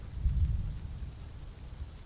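Low rumbling thunder rolls under steady rain, a muffled, distant boom swelling early then settling into a continuous wash of falling rain, no voices.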